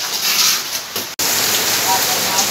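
Steady rain pours down in a dense, hissing wash, close and continuous, with a brief cut in the middle.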